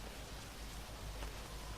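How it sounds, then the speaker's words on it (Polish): Rain falling steadily in DayZ on Namalsk, a soft, continuous hiss of drops with a faint low rumble underneath, constant in level and unaccompanied by speech. "Deszcz zaczyna. A, deszcz pada sobie."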